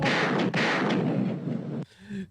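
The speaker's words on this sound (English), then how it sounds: "Oh look, super chat, gunshots." A gunshot sound effect plays during a livestream, a loud burst of rapid, booming shots that fills most of the clip before cutting off abruptly into near quiet.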